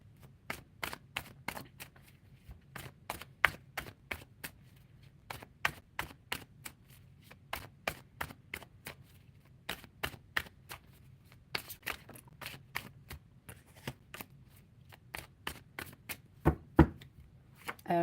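Tarot cards being shuffled and cut by hand, a steady run of crisp riffling snaps and taps in irregular bursts, close and fairly quiet, with no talking.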